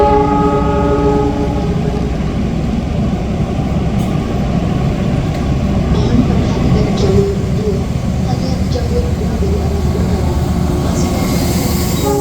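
Onboard the Argo Bromo Anggrek passenger train on the Jakarta to Semarang line, a constant loud rumble of wheels and carriage fills the space, with a sustained horn tone early on and voices faintly in the background.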